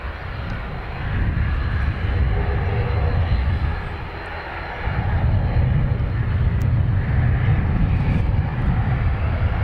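Turboprop engines of a CASA C295 at Dublin Airport give a loud, steady broadband roar that dips briefly in the middle before surging back, continuous throughout with no talking.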